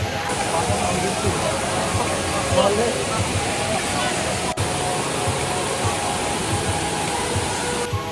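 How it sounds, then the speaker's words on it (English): A large multi-level waterfall in Luang Prabang, Laos, roars as a steady, broad rush of falling water throughout, close and loud, with a crowd of people faintly audible around it. "This waterfall is really interesting because it has so many levels and it just keeps going higher and higher."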